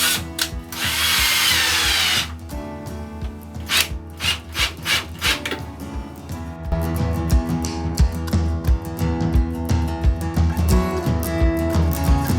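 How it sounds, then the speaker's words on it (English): A power drill driving into a washroom wall during a DIY tile backsplash job, with bursts of whirring and grinding broken by short pauses and scraping, loud and close with no voices. "I'm going to drill that right in"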